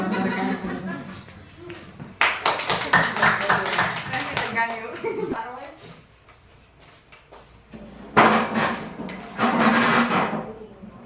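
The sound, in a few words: audience applause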